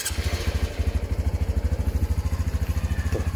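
A Honda Revo motorcycle fitted with a swapped-in two-cylinder engine idles close by, a loud, steady, evenly pulsing thump that stays constant throughout.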